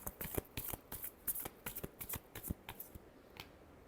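Tarot cards are shuffled by hand in a rapid series of crisp riffles and flicks, close and clear, about a dozen quick bursts without any talking.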